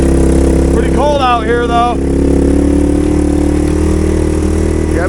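A three-wheeler engine swapped into a golf cart runs at a steady idle after sitting for a long time, its loud chugging drone continuous while someone talks briefly over it.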